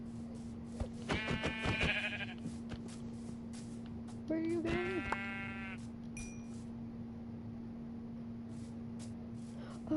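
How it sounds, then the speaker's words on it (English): A video-game sheep bleats twice, close and clear, over a steady electrical hum and light clicks, while a person speaks briefly. "The gods have given me a sheep."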